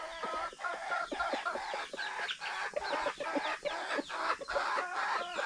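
Several hens cluck close by in a busy run of short, choppy calls, overlapping and fairly steady, with a few louder squawks among them.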